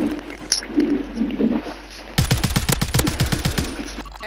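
Call of Duty gunfire, a loud rapid burst of automatic shots firing in quick succession after a quieter stretch of ambient game sound, close and dominant.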